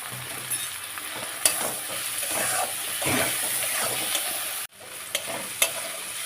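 Spices sizzle and get stirred in a pan with tomato, a little salt and turmeric while chicken curry cooks, a steady close frying hiss broken by scraping stirs and a short pause near the end.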